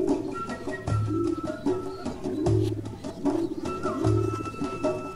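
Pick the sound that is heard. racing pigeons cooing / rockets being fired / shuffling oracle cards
racing pigeons cooing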